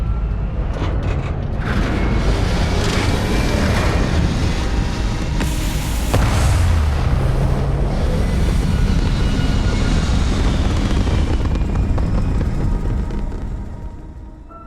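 A spaceship launches into orbit in the video game Starfield with a loud, sustained engine roar and rumbling boom that builds, holds, then fades out at the end.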